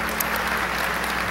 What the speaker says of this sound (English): Big round of applause for Josh